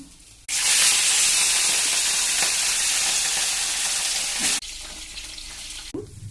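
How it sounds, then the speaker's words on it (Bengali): Nigella seeds dropped into hot oil for a tempering in a katla fish curry kitchen, erupting into a loud, bright sizzle that runs for about four seconds, then settles into a softer frying hiss. "কালো জিরা ফোড়ন দিয়ে দিলাম।"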